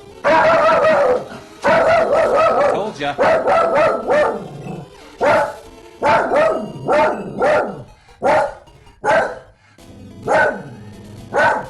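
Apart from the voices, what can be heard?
dog barking at a visitor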